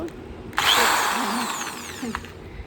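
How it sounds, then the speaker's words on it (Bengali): A power drill bores into a wall for a curtain rod, starting suddenly with a loud, close whine that gradually eases, then a brief rattle as the bit stops or shifts. "ড্রিল হবে ওখানে চলো"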